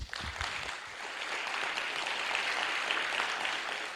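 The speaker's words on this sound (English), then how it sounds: "please give a round of applause to all panelists." An audience at a symposium applauds its panelists with a steady, moderately faint wash of clapping that runs throughout after a brief thump at the start.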